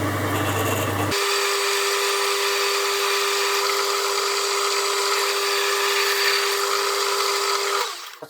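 A steady, high-pitched whine of a 7.5mm drill boring a hole runs continuously for several seconds after a brief lower rumble at the start, then cuts off abruptly near the end.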